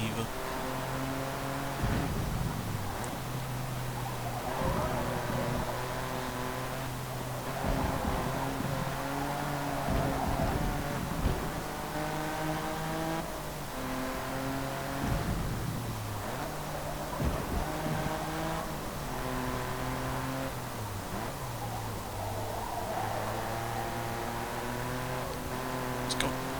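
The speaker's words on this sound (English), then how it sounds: "When it is eventually able to stretch its legs, the engine gets up to a decent rate of speed on this circuit." A car engine in Forza Motorsport 2 revs and shifts through the gears on a race circuit, rising and dropping in pitch over and over while someone talks steadily over it throughout.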